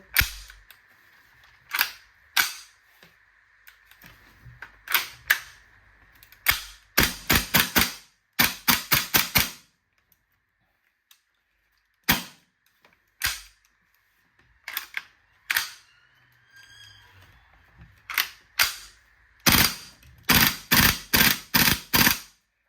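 An E&L QBZ-191 replica rifle fires sharp, close cracks in single shots and rapid bursts of several, with gaps between strings and faint mechanical clicks in the pauses, no talking.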